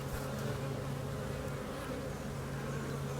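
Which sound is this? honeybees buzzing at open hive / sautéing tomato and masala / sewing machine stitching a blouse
honeybees buzzing at open hive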